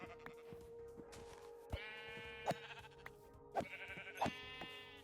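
Sheep in the game Minecraft bleat as they are killed, several short bleats and hit sounds at irregular intervals, fairly quiet and heard alone.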